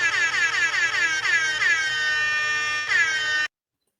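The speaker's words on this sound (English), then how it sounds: "Just the little Jamaican air horns just do it for everybody." Jamaican air horn sound effect blares in rapid repeated bursts, loud and close, each burst sliding in pitch, before cutting off abruptly into silence.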